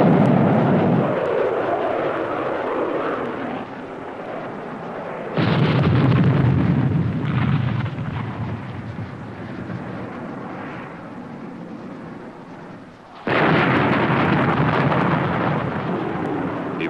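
Sidewinder missile explosions in a 1963 weapons test with an F-104 Starfighter, two loud booming blasts that each roll on into a long rumbling decay, far-off and heavy, with no talk.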